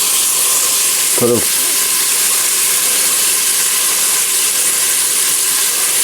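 Ham cooking down in its own rendered fat for Southern butter beans gives a steady, even sizzle and hiss that fills the whole stretch, with a single short spoken word early on.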